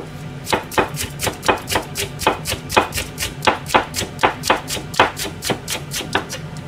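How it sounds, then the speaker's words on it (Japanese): A knife chops green onion on a cutting board in a home kitchen. The close, crisp chopping strokes come at a fast, even pace, about three per second, and no one speaks. "ちょっとネギ刻んで飛ばそっか"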